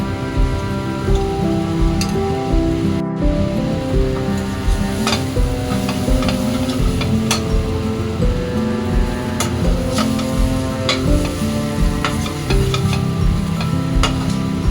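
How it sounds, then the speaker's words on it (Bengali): Kitchen chimney exhaust hood running steadily while lote fish curry with boiled potatoes cooks, a constant droning motor hum with sizzling and spoon stirring clinks on top, no voices. "চিমনিটার এতটাই সাউন্ড আছে, আমার ভয়েসটা ঠিকঠাক হচ্ছে কিনা জানি না"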